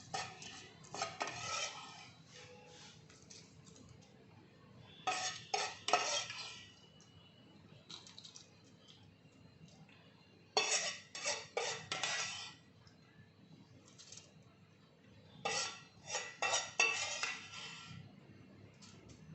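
Fried chillies and leaves are mixed into goat mutton pickle, with intermittent bursts of spoon scraping and clinking against a vessel, separated by quiet pauses.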